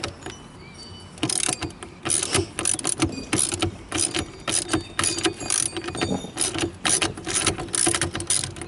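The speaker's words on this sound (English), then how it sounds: "we're going to use a 3/4 inch socket and ratchet to remove the steering wheel nut, which is a lock nut" A 3/4 inch socket and ratchet work a lock nut off a boat steering wheel during a hydraulic steering installation, giving rapid, loud clicking pawl bursts in repeated strokes close by, with no speech.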